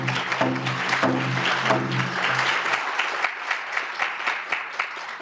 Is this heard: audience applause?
yes